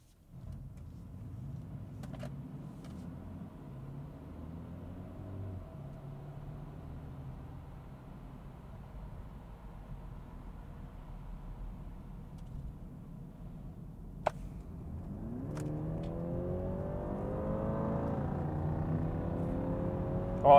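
A 2021 BMW 330i xDrive and a Dodge Charger with a 5.7 Hemi accelerate side by side from a 50 km/h rolling start, heard as a steady low engine drone from inside the cabin that builds and rises in pitch toward the end.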